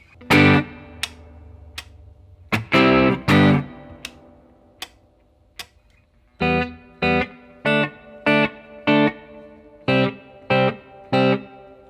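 Fingerpicked guitar notes plucked in short bursts, a song's verse: first a few slow groups of strums, then a steady run of evenly spaced plucked chords, clear and alone.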